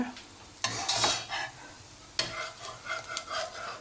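A dosa topped with finely chopped carrot and onion cooks on a hot pan, giving a faint, steady sizzle broken by a few sharp scraping and clinking touches from a spatula, without talking.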